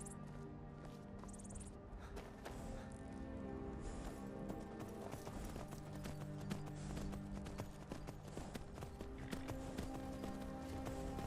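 Horse hooves clip-clop steadily at a riding pace in the virtual reality game Skyrim VR, layered under continuous game music and ambience, with no voices.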